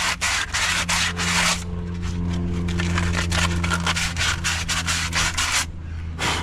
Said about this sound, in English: That 80 grit will do a fine job of cleaning that up.